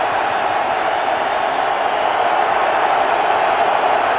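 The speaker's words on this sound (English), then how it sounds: "not easy to hear when this crowd is loud" A loud football stadium crowd in Minnesota during an NFL game roars in a steady, dense wash of noise that holds constant throughout, with no distinct voices standing out.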